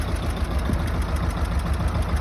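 Tractor engine idling with a plough attached, a steady rumbling drone with a faint knocking pulse, close and fairly loud, no talking.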